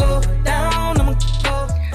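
A brief snatch of a song, a dense, loud mix of sung vocals over a heavy bass-driven beat, playing alone for about two seconds.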